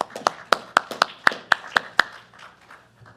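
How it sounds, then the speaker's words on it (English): About a dozen sharp, spaced hand claps at a school board meeting, loud and close, fading into softer scattered clapping at the end. "One more round of applause, please"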